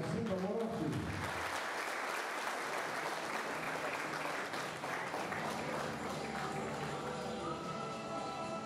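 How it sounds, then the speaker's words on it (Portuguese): A crowd applauds an honoree at a Panathlon sports ceremony with steady, dense clapping that holds for several seconds. A brief bit of speech comes at the very start. "Uma salva de palmas para o Orlando Fonseca Morotti."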